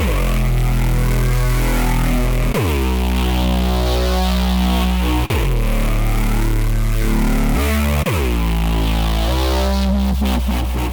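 A deep, sustained synthesizer bass drone with an LFO slowly sweeping the filter, re-struck every few seconds and trailing into a wash of reverb, loud and alone.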